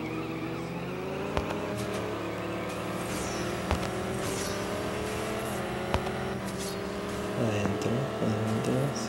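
A car engine races in the mobile drag-racing game CSR Classic, revving through several rising gear shifts with sharp clicks between them, loud and close, ending in a squealing burst of rapid revs.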